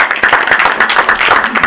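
Meeting attendees clap together at a school board meeting, a dense, steady patter of many hands filling the room for a short burst, with a little talk mixed underneath.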